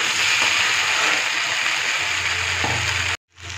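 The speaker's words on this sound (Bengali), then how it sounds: "এবার দেখো অল্প অল্প করে আমি জল দিয়ে দিয়ে নেড়ে নেব, মশলাটা ভালো করে কষাবো।" Masala spice paste sizzles steadily in a pan for a vegetarian potato, pointed gourd and paneer curry, a dense close frying hiss with a few faint stirring knocks, cut off abruptly near the end.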